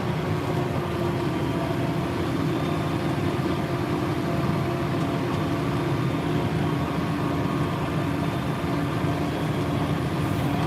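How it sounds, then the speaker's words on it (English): A tractor engine runs steadily while mowing hay, giving a continuous low drone with no breaks and no talk. "sometimes just listening to the tractor and watching the mower"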